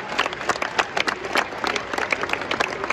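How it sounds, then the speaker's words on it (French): Stadium crowd at a Reims football match applauding the club, a steady dense patter of many hands clapping at moderate distance, continuous throughout. "31 secondes d'applaudissements parce que le club a été créé en 1931"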